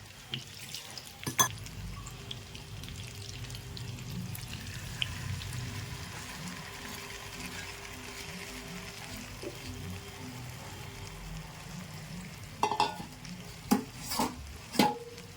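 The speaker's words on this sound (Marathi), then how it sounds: "थोडंसं पाणी टाकून थोडंसं वाट टाकून ते याच्यात टाकून देऊ आणि याला शिजू देऊ" Spiced water poured into a pan of gram-flour-stuffed green chillies simmering on the stove, giving a steady low sizzle with stirring scrapes and a few sharp clinks of utensils near the end.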